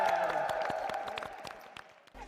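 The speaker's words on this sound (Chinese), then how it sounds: "我们掌声再次给贡区华鼓励一下" A studio audience claps loosely during a Tibetan-style youth talent show, a scattered patter of hands that fades over about two seconds, with music still humming underneath.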